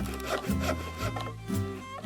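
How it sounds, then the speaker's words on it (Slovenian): Wood being sawn in a cartoon workshop scene, steady back-and-forth rasping strokes repeating in an even rhythm, close and continuous with no voices. "So žagali, brusili, dolgli, rezali, zvijali."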